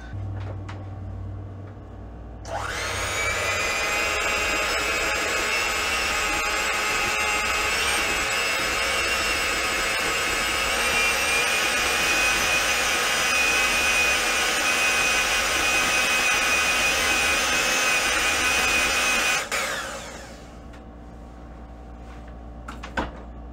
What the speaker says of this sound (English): we're gonna whisk it on low at first, and we'll get a little bit higher until it falls off the whisk when I lift it up